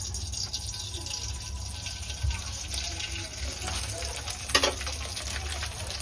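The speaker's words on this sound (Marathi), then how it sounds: "हे पापड मी तुम्हाला तळून दाखवत आहे." Papad fries in hot oil with a continuous bubbling sizzle and a low rumble, and a brief sharper crackle stands out near the end.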